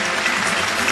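A studio audience on a Chinese job-seeking TV show claps to send off a contestant, giving a full, dense burst of applause that fills the whole moment with no voices.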